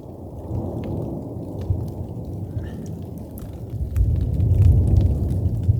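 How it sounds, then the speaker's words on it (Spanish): Thunder from an electrical storm with snow rolls as a low, continuous rumble at a solo campsite, with spattering precipitation over it, and the rumble swells louder near the end. "Nunca había visto tormenta eléctrica con nieve."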